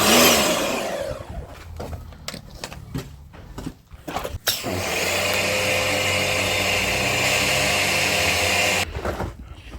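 A pressure washer rinses the engine bay of a Honda Civic FD1 with an R18 VTEC engine, starting with uneven spurts and clatter, then settling into a loud steady spraying hiss close by.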